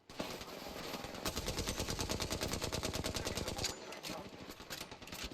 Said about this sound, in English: Taking fire, brothers. They're firing on me.